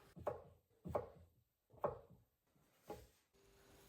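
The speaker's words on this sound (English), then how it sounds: "It's not that easy, but you want to cut the zucchini evenly" A knife slices through zucchini on a cutting board, cutting diagonally for wide oval pieces: four separate crisp thuds spaced roughly a second apart, close and fairly quiet, with no talking.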